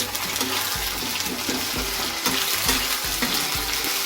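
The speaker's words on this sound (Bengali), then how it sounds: "আদা রসুনটা ভালো করে ভেজে নেব এর সাথে" Ginger-garlic paste frying with onions in a pan gives a steady, loud sizzle, with frequent scrapes and knocks from stirring throughout.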